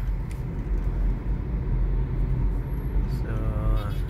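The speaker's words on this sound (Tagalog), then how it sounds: "medyo maganda yung traffic ngayon," Road traffic on Quezon Avenue on a Sunday, a continuous low rumble of passing cars heard from inside a vehicle, steady throughout with no talk.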